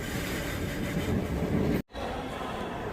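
At platform 2 of Varanasi railway station, a train rumbles in a steady, dense roar of wheels and station noise that cuts out abruptly for an instant and then resumes.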